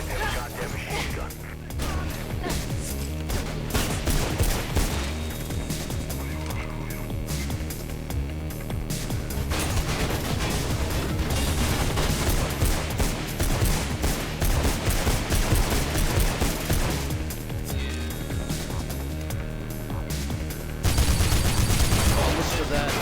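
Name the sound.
machine gun fire in the video game Mirror's Edge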